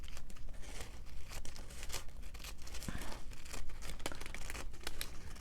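Scissors trimming a glassine paper bag, with a string of close, crisp snips and crinkling paper rustles.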